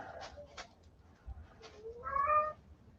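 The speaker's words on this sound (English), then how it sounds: "my cat's getting into the foam things now" A house cat meows several times while poking into foam packing and bubble wrap, short close calls with a longer rising meow near the end over a quiet room.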